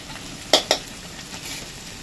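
Chopped tomato fries with onions, salt and turmeric in a pan, a soft continuous sizzle broken by two quick metallic clinks of a spoon stirring against the pan.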